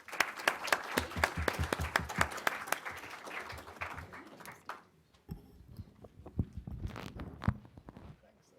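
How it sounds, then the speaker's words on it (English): Applause for two panelists at the close of a policy discussion, a small audience clapping for about four seconds before it dies away into scattered handling noises and faint movement. "let's give a round of applause to our two panelists"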